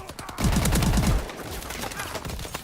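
Automatic weapon fire in the video game Call of Duty: Advanced Warfare, a rapid close burst of gunshots followed by quieter scattered shots.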